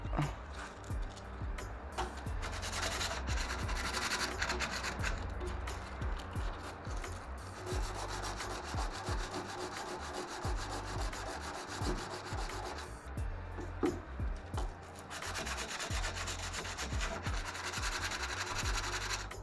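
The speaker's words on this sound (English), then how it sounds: "All I've got to do is a quick rub around it, maybe get something a little bit harsher than that." Steady abrasive rubbing on the metal of a rusty Ford Capri 2.8i strut tower, a continuous close rasping scrape running throughout with brief pauses and shifts in stroke.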